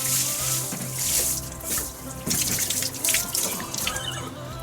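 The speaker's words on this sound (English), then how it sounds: "I tried to rinse off the highest level of the siding" Water pours from a watering can, splashing and rushing steadily against house siding, a continuous spattering pour with small drips and gurgles, close by and fairly loud.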